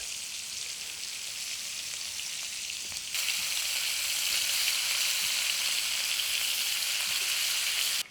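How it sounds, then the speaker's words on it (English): Greek meatballs sear in a pan, their fat spitting in a steady close crackle like light rain; a lid goes on partway through and the sizzle jumps slightly louder and denser until a brief clink at the end. "So I put a lid on top of it as well, so it's searing."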